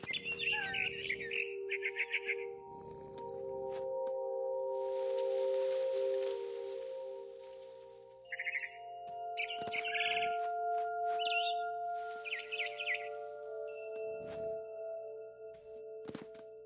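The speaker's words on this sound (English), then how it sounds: "Then I heard chirping outside my window. It was a barn swallow going back to her nest." Barn swallow chirping outside a window in the video game What Remains of Edith Finch: bright, quick chirps and twittering come in several short bursts, over a steady game hum and occasional soft thunks.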